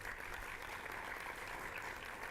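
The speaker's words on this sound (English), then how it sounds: "Let's give him a round of applause." A crowd applauds steadily, a dense wash of clapping heard from a little distance, fairly quiet and even throughout.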